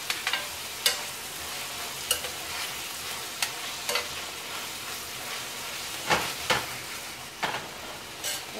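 Food in a pan is stirred over a soft ongoing sizzle, with sharp scraping strokes of the utensil recurring every second or so, close and clear.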